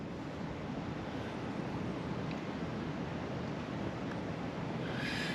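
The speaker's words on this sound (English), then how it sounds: "It is quite windy." Strong wind blows outdoors around the Needle's Eye and Hoober Stand monuments, a steady broadband roar and buffeting that fills the whole stretch with no one speaking.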